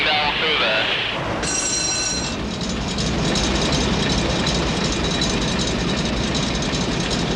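An old steamship's engine drives the vessel on its voyage to Antarctica, a loud, continuous low rumble and droning mechanical churn that holds steady throughout, close and enveloping.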